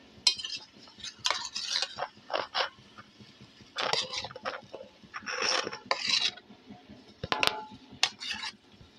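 Chopped raw plantain is tipped into a boiling fishless fish-style curry and stirred, giving close, intermittent scraping, clinking and rattling bursts of a utensil against the pot.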